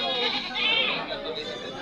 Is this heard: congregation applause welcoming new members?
no